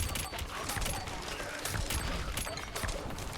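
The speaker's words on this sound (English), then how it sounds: "the explosion's so good" Explosions in the video game LORT go off in a rapid, crackling series of sharp blasts and bangs, dense and fairly faint with no let-up.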